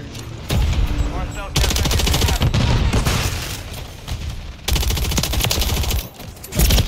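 Loud, sustained automatic gunfire from the Call of Duty video game comes in dense rapid bursts with brief gaps between volleys, close and dominant in the mix.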